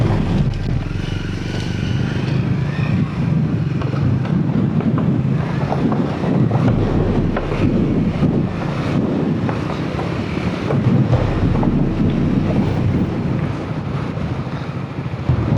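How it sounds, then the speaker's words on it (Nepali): Strong gusting wind buffets the microphone on a swaying mountain bridge near Muktinath in Mustang, a loud continuous low rumble that rises and falls, with no clear speech. "हावा डेन्जर चल्यो यार"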